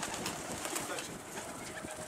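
A domestic pigeon coos softly amid a low background hum, the calls faint and somewhat distant, with no clear speech over them.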